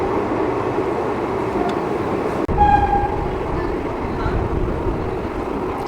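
A train runs toward New Jalpaiguri past Siliguri Junction without stopping, a loud, steady rumble of wheels and carriages with a brief tonal horn-like note midway.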